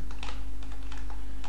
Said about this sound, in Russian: Двумя пальцами на цифровой раскладке клавиатуры